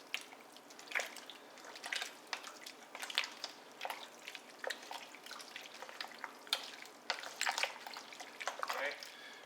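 Chicken corn chowder being stirred in a pot, with soft wet scraping and gentle liquid sloshes and drips in uneven bursts. Quiet and close-up.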